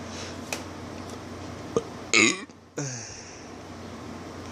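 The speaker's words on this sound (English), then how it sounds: "I burped." A single close, fairly loud human burp in a quiet room while pet rats are being filmed, a short rough gulp that stands alone against faint background hiss.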